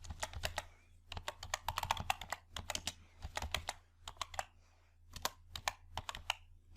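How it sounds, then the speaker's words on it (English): Close, quiet typing on a computer keyboard, with irregular bursts of sharp key clicks separated by brief pauses while entering a search term. "Type shopping store in search box"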